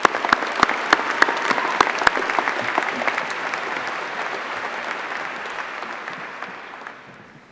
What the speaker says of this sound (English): Please join me in a round of applause to the graduates